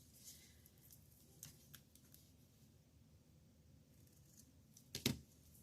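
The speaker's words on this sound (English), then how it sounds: "scissors." Ribbon scissors cut through sparkly Highland Heather grosgrain ribbon, giving a single short, crisp snip near the end after a long stretch of near-silence in a quiet craft room.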